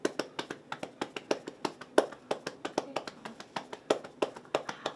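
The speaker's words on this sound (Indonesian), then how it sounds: "Boleh tepuk ke atas dan bawah." Cupped-hand patting moves up and down a person's back, a quick, fairly regular series of soft, close slaps, around twenty in a row, heard on their own.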